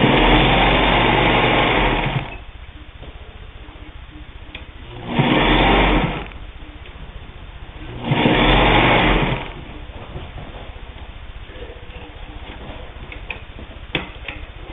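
A Pfaff 130 sewing machine stitches through denim in three loud bursts of rapid mechanical whirring and ticking, each about a second or two long, separated by quieter pauses with faint handling sounds.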